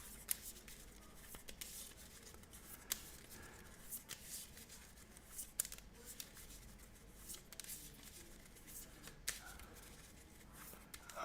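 Playing cards from a Marvel Champions board game being handled and shuffled back into a deck, soft riffling and sliding with small taps, quiet and close, no talk.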